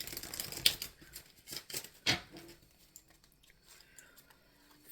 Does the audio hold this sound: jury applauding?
no